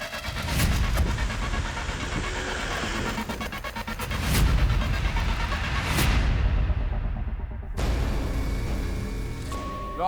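An engine roars loud and close during a motorbike chase, rising and surging with a few heavy booms before cutting off abruptly near the end, followed by a brief quieter stretch; no one speaks.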